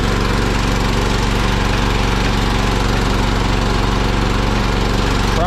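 A John Deere 212 garden tractor's small engine runs steadily and loudly at close range, a constant droning hum with a fast regular pulse, with no talking over it.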